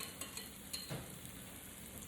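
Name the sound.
batter sizzling in frying pan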